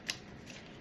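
A deck of chakra cards is shuffled in a brief, soft riffle with one crisp flick at the start, close by and quiet.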